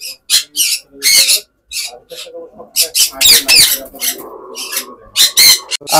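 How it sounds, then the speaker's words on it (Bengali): A black-capped lory in a bird shop gives rapid, harsh squawks and chirps in quick bursts, loud and close, with a little background chatter. "এটা লরি, ব্ল্যাক কাপ লরি"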